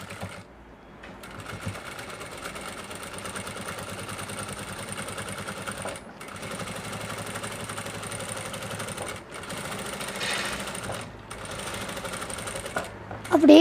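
Sewing machine stitching a handkerchief hem, a steady mechanical whir with rapid needle clatter running in long stretches, broken by brief stops, close and moderately loud.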